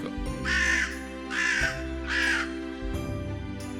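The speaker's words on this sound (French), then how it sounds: "Le corbeau approuve." Crow cawing three loud, harsh calls at a steady, evenly spaced rhythm, with a softer fourth caw at the end, clear and close over a low background hum.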